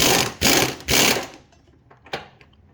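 Ratchet with a swivel extension tightening transmission mount bolts on an 8th-gen Honda Civic Si, three loud, quick ratcheting bursts close up, followed by a few faint clicks.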